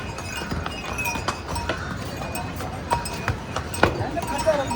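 Horses and mules clip-clop on a stone trail at the horse-and-mule counter at Gaurikund on the Kedarnath trek, with scattered hoof clops amid busy crowd noise and someone speaking.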